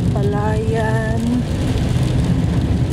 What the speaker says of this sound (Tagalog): Yan po ang lakas ng ulan.